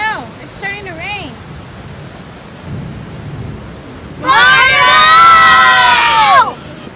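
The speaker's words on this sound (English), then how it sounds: "it's starting to rain." Thunder rumbles and rain falls in a staged storm scene, with children's voices calling and shouting over the storm, then a loud burst of excited shrieking near the end.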